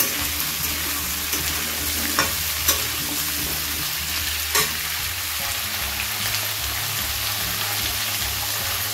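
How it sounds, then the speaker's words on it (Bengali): Hard vegetables for a cabbage ghonto fry in a pan with a continuous loud sizzle, while a spoon stirs and knocks against the metal a few times, close and with no speech. "প্রথমে এই শক্ত সবজিগুলোকে একটু ভেজে নিচ্ছি"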